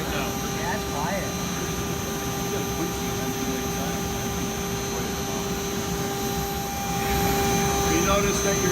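An Ingersoll Rand Nirvana air compressor runs at full speed, giving a steady, even hum with sustained tones over broadband noise, while people talk over it.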